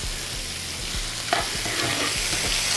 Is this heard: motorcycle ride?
no